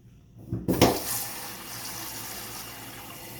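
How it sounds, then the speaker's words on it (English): A sink faucet turned on after a quiet moment: a brief clunk and splash, then a steady stream of running water that continues evenly to the end. "So let me turn the water back on."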